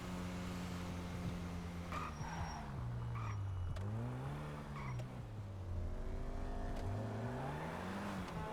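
A car driven in a roleplay video game, its engine revving up and down through gear changes with a faint tire squeal, steady and close throughout.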